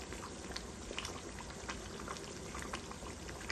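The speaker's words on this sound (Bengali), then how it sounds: "দেখো আমরা আলুগুলা সিদ্ধ হয়ে যাচ্ছে" Potatoes and meat boil in a pot for a bhuna, giving a steady, soft bubbling and hiss with small scattered pops, continuous and fairly faint throughout.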